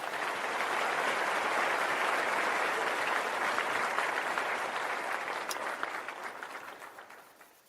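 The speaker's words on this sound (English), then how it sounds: "Let me give you your applause" A canned applause sound effect gives a full, even round of crowd clapping that stays steady for several seconds before tapering off and fading out.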